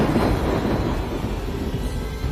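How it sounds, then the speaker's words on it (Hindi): A deep, loud rumble of thunder rolls steadily and close, with no talking, set in a haunted village horror story. "बिजली कड़कती है।"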